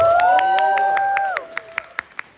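Clapping at a convention gathering: a held tone fades into a run of evenly spaced, sharp claps, loud and close, ending in crisp rhythmic pulses.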